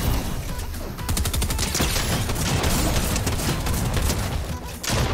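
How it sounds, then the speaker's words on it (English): Rapid bursts of gunfire from a drum shotgun in the video game Fortnite, loud and dense, with booming blasts close together almost without pause across the stretch, briefly dropping off near the end. "Is that a drum shotgun?"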